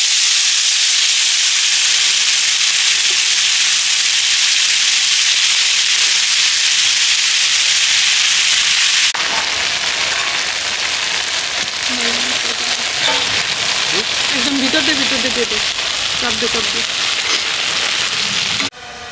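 A whole fish frying on a tawa at an outdoor village picnic, sizzling loudly and continuously with steady crackling, while a voice speaks quietly under the fry in the second half.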